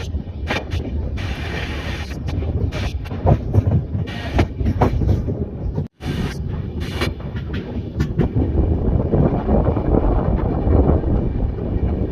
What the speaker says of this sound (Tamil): ஒரு நிமிஷம் கழித்து நம்ம 8:01 விழுப்புரம் ஜங்ஷன்லேருந்து நம்ம ட்ரெயின் டிபார்ட் ஆகுது